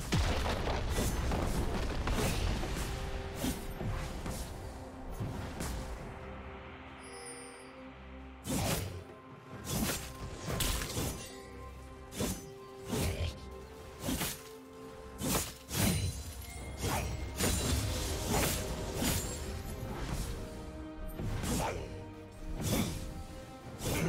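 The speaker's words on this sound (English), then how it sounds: "Team's turret has been destroyed." A turret being destroyed in a League of Legends match, a series of sharp, loud crashing booms and impacts repeating over game music and clutter, dense and punchy through the second half.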